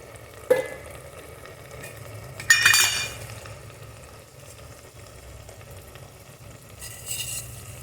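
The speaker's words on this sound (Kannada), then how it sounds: "ನೋಡಿ ಈ ಥರ ಚೆನ್ನಾಗಿ ಫ್ರೈ ಆಗ್ತಾ ಇದೆ" Masala powders fry in a pan for kushka rice with a soft, steady sizzle. A sharp clink sounds early, then a louder scrape of a utensil stirring against the pan, and a further brief rustle near the end.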